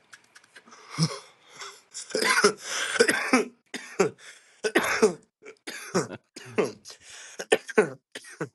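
A run of harsh, repeated coughs and throat-clearing bursts, close and loud, coming in irregular clusters over several seconds with raspy, wheezy breaths between.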